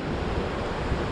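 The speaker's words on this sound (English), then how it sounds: "This is the sea ahead of us." Sea surf rolling onto a beach at Ankobra in Ghana's Western Region, near where a river meets the sea; a steady, loud wash of breaking waves with wind buffeting the microphone throughout.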